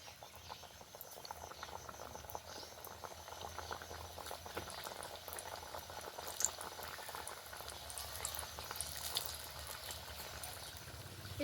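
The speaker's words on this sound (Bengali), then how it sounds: "একইভাবে বাকিগুলো ভেজে নেব।" Nimki pastries deep-fry in oil with a soft, dense, continuous bubbling fizz that stays even and fairly faint throughout, without speech.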